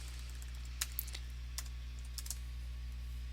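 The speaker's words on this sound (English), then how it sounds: "type it in manually" Light keystrokes on a computer keyboard, a handful of sparse, quiet clicks in short clusters over a constant low electrical hum.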